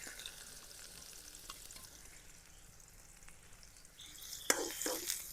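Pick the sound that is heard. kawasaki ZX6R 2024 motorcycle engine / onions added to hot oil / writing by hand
onions added to hot oil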